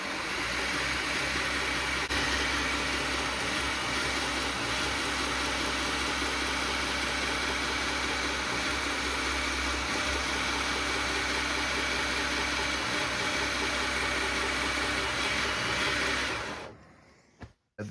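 A Grizzly 2x42 knifemaking belt grinder fitted with small wheels runs steadily and loudly with a constant motor whine and belt hum, then cuts off near the end.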